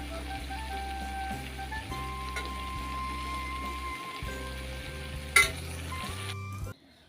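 Eggplant masala with mustard paste is stirred in a pan, a continuous close sizzle and frying hiss running over steady background tones, with one sharp clink near the end before the sound cuts off abruptly.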